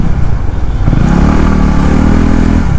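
A Honda CB 150R motorcycle rides along a broken road, its engine droning steadily and loudly with a low rumble that rises slightly midway, accompanied by wind and road noise.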